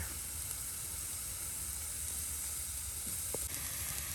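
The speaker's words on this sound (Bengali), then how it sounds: "পেঁয়াজ রসুন সব একসাথে এই যে ভেজে নেওয়া হচ্ছে" Onion and garlic fry together in a pan, giving a steady, close sizzle that holds even throughout, with one brief clink near the end.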